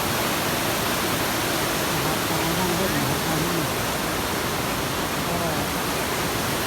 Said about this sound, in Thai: น้ำตกสวยนะครับ